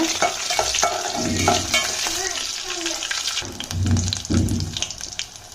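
Dried red chillies and spices sautéing in a pan for Tamil kalani puli saru, a steady close sizzle with scraping stirs and clatters and some water noise, loud throughout.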